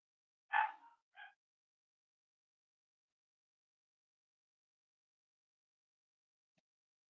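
Young Cavalier King Charles Spaniel puppies yip in a brief burst, two short high barks close together at the start, then silence for the remaining seconds.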